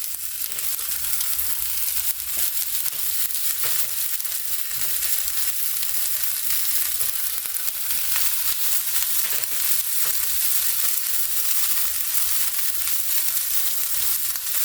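Corn tortillas fry in a pan with a steady, loud sizzle that holds evenly throughout, with faint stirring and crackling and no voices.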